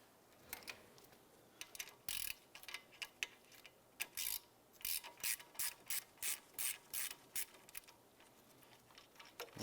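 A ratchet wrench loosens the lower rear brake caliper bolt on a 2006-2011 Cadillac DTS, producing a quiet, steady series of rhythmic clicking strokes that repeat for several seconds.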